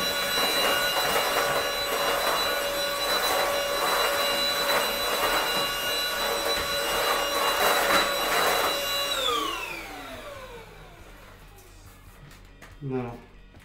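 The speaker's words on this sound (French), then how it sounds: "le coup d'aspirateur, on va le passer avec l'aspirateur" A vacuum cleaner runs with a steady whine, then powers down, its pitch sliding away before a short clunk near the end.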